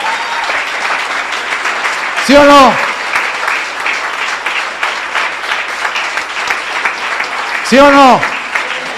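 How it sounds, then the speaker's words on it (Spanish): A church congregation claps continuously in a sustained round of applause, while a preacher's voice calls out loudly over it twice. "Dan un aplauso a Cristo."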